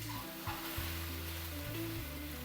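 Okra sautés and is stirred in an open pan as it wilts, giving a steady, soft, continuous sizzle with faint scraping. No voices are heard.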